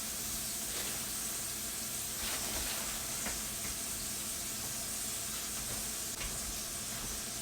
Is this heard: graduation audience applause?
no